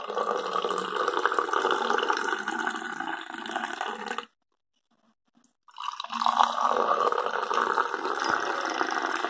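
Sukku malli (dry ginger and coriander) coffee poured into a drinking tumbler, a steady close liquid splash with a short pause midway before the pour resumes, no talk.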